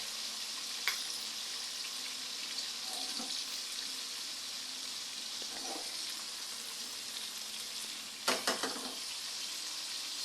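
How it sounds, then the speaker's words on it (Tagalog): Soft, continuous sizzling of fish shallow-frying in a little oil, quiet and close, with a few light clinks and taps. "Yung piniprito kong fish, patapos na siya."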